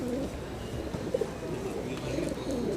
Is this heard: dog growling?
no